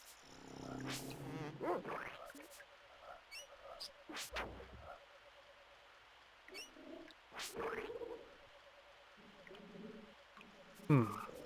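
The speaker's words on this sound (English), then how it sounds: "Those frogs." Frogs croaking in a swamp inside a video game, scattered calls and chirps at moderate distance with irregular rhythm, over a quiet ambient background with a few sharper bursts.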